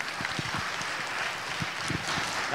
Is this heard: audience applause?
yes